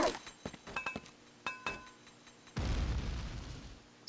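A grenade explodes in the shooter game Quake 2 after a series of sharp metallic clinks and thuds, then a dense rumbling blast that lingers loudly for over a second.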